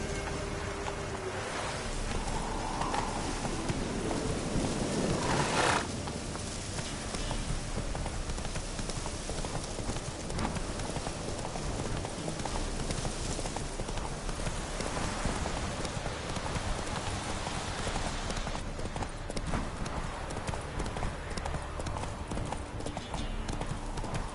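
A horse gallops in a video game, its hooves clip-clopping in a fast, continuous rhythm close by, under a steady rain-like hiss of ambience.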